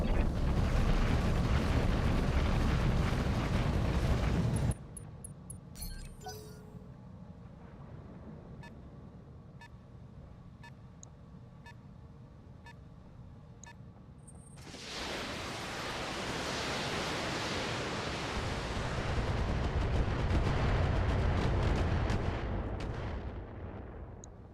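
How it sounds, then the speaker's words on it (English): Missile volleys and explosions from the BattleTech video game, played with the BTA mod, boom in loud, dense rumbling waves. A quieter stretch of faint clicks and ticks follows before heavy roaring fire builds again. "And some missiles, but nothing hit."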